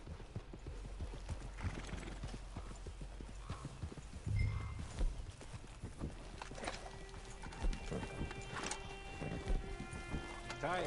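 In Red Dead Redemption 2, horse hooves clip-clop steadily at a walking pace alongside game ambience, with occasional faint voices and a brief whinny.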